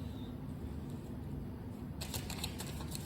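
A deck of cards is riffled in a short crisp burst partway through, rattling over a steady low background hum.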